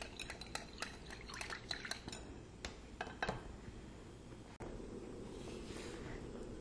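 Rapid whisking of a sauce mixture thinned with a little water for a shrimp, bell pepper and snow pea stir-fry, with quick metallic clicks against a bowl that stop abruptly partway, leaving soft background noise.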